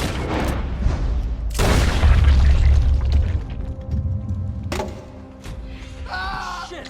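Gunshots in Red Dead Redemption 2 aboard a riverboat, two sharp, loud reports spaced a few seconds apart, the first followed by a heavy low rumble, then quieter ambience and a brief tonal sound at the end.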